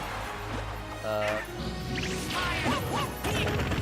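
Game sound effects from a Super Smash Bros. tournament match, Yoshi against Fox, with whooshing and a crashing smash hit amid crowd and commentary noise, ending in sharp quacky bursts.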